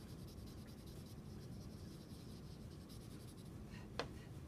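A blending stump rubs chalky medium across paper, giving a faint, steady, soft scratching with one brief louder stroke near the end.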